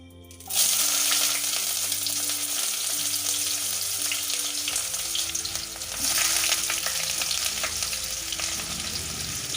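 Dried chillies and raw onion hit hot oil with a sudden loud sizzle that continues as a dense, close frying crackle, swelling again partway through, with no talking.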